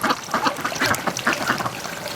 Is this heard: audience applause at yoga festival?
no